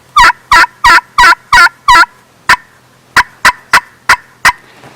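Sharp, loud turkey clucks snapped on an AnoHen aluminum pot call, about a dozen crisp bursts, a rapid run of six followed by a slightly sparser series, close and alone.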